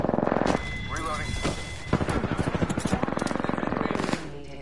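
Rapid automatic weapon fire in the Apex Legends video game, a steady close burst of shots lasting several seconds, with a few louder booms and game voice lines mixed in.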